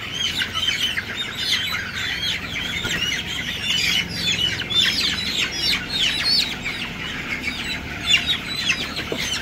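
A crowd of chickens keeps up a steady, loud chorus of squawks and chirps with bursts of wing flapping while their beaks are burned and trimmed; no voices are heard.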